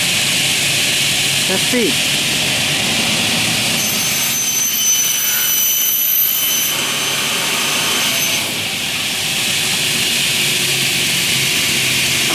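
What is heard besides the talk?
Windotek CNC cutting saw motor running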